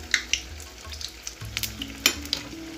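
Beguni, battered eggplant fritters, frying in hot oil for a Lakshmi Puja meal, with a steady sizzle and a few sharp crackles and pops near the end, close and without talk.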